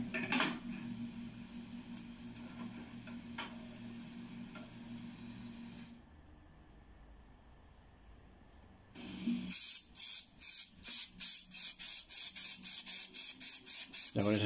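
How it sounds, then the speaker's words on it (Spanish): Aerosol spray paint hissing onto toy truck parts during a restoration, in a run of short rapid bursts near the end after an earlier stretch of duller background noise, loud and close. "Ya con ese spray, pues también va pintando algunas piezas."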